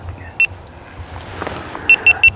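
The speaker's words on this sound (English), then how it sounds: "I know they definitely heard the beep." Short electronic beeps sound during a Michigan late-season deer hunt, a single beep followed by three evenly spaced ones, sharp and clear over faint outdoor rustling.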